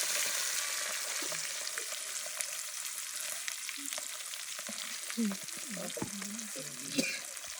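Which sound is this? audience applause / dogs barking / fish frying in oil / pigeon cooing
fish frying in oil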